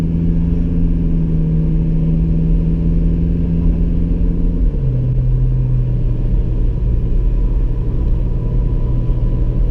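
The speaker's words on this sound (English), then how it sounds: "You can hear the engine more now." Steady engine rumble from inside a moving 2018 Toyota Fortuner SUV with automatic transmission, with a low drone that drops in pitch midway as the gear shifts, continuous and fairly loud.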